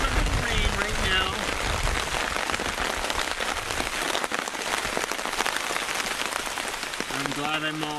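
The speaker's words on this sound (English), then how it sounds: "Yeah, we're getting a little bit of rain right now." Steady rain pours down outdoors on a windy hilltop ridge, a dense continuous hiss with drops spattering on surfaces; brief tonal voices or sounds surface near the start and end over the downpour.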